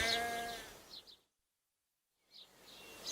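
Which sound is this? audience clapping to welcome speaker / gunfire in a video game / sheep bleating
sheep bleating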